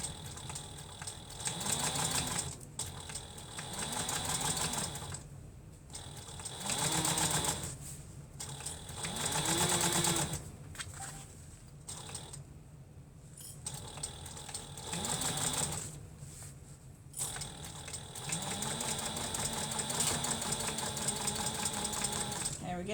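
A sewing machine stitches a fabric shoulder bag in repeated bursts of quick mechanical whirring, stopping and starting as the seam is guided. A person talks over parts of it.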